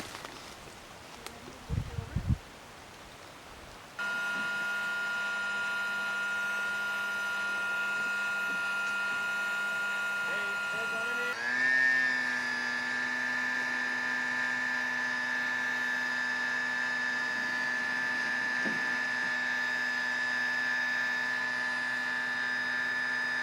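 Gas-powered portable winch hauling docks into a forest bay for winter, a steady high-pitched engine whine that starts abruptly after a few handling clunks and shifts to a higher, strained pitch midway as the load pulls.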